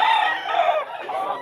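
Rooster and chickens at the Bulacan pet market give a loud, close crow blended with clucking from other fowl, filling the short moment without any voices.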